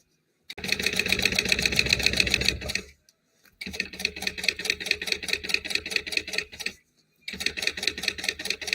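A sewing machine stitching a quarter-inch seam, rapid rhythmic mechanical clatter running in three bursts separated by short pauses, loud and close.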